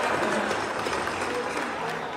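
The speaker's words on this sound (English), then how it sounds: "I would like everybody in the house to get up and give them a big round of applause." Crowd applause for the organizing committee at an Iri Ji festival hall, a dense continuous clapping that stays level through the short stretch with voices mixed in.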